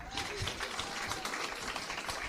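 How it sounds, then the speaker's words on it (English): Audience applause at a university sports gala: a dense, even patter of many hands clapping, moderately loud and unbroken. "Okay, we can clap now."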